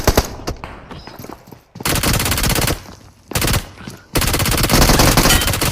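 Bursts of automatic gunfire in PUBG Mobile on the Miramar map, loud and close, with long sustained volleys separated by brief pauses and a scattering of single shots at the start.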